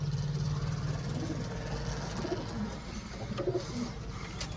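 Pigeons kept in a coop coo softly and repeatedly, low and rounded, over a constant background rumble of traffic and engine noise nearby.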